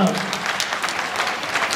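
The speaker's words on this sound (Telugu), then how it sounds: "గట్టిగా చప్పట్లు కొట్టండి." An audience claps together at a talk, a short dense burst of applause with a voice faintly mixed in.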